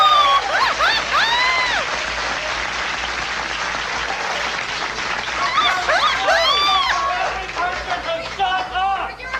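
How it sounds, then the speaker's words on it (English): A trivia show audience applauds steadily and fairly loudly throughout, with whoops and bright cheering voices rising above the clapping near the start and again toward the end. "And they're all clapping for the audience now."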